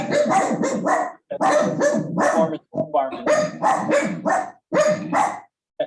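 A dog barks repeatedly in short, loud clustered bursts with brief pauses, close by, while a person speaks faintly during an online meeting about standards.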